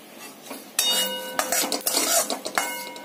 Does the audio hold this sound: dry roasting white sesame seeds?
yes